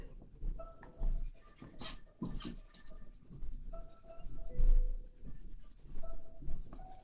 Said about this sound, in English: Using the whole of my pencil, lightly, heavier.